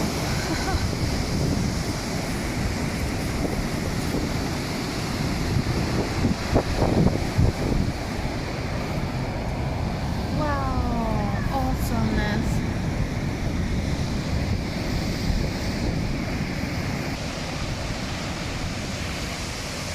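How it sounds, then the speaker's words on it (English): Wild ocean surf crashes and splashes around a torii gate at a seaside shrine in Oarai, Japan, a steady loud roar of waves with wind buffeting the microphone and brief faint tones in the middle. "It makes for some dynamic splashes on the torii gate to the gods"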